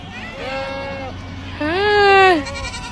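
Several goats bleat close by, with two wavering cries, the second louder and longer, over a low background murmur.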